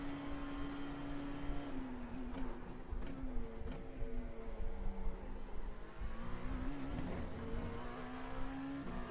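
A Dallara LMP2 prototype race car driven around a track in iRacing, its engine a steady, sustained whine holding fairly constant pitch with slight rises and dips, moderately quiet and alone.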